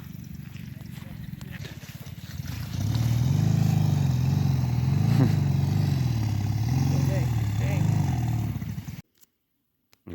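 Motorcycles, quad bikes and cars driven around a punk festival grounds, a steady nearby engine drone rising and falling in pitch as vehicles rev and pass, with other crowd noise under it.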